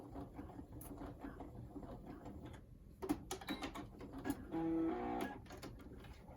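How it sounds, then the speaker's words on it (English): A sewing machine set to its button setting stitches a button onto a fabric mask headband, giving a close mechanical whir and clatter with a brief steadier humming run near the end. "Put your sewing machine on your button setting."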